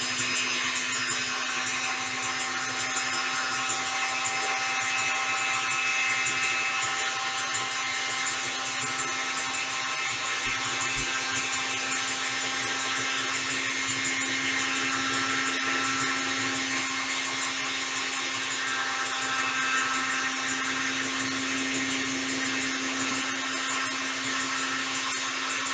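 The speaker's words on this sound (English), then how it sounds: "You put the aquafaba, the chickpea water, into your mixer, and then you let it mix." An electric mixer whipping chickpea water (aquafaba) whirs continuously at high speed, a steady loud motorized drone with no pauses or voices.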